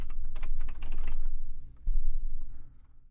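Rapid typing on a computer keyboard, close and clear, keys clattering in quick bursts with a brief pause midway and a louder thump before the tapping resumes and trails off.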